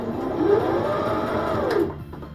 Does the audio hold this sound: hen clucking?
no